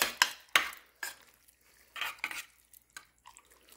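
A spoon knocks and scrapes against a metal pot while mixing homemade chili, a few sharp clinks spaced across the stretch with softer stirring scrapes between them, close and with no talk.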